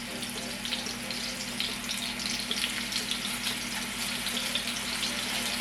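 Ground chicken and spinach burger patties sizzle steadily in a greasy pan, a close, continuous crackling fry with no pauses and no voices.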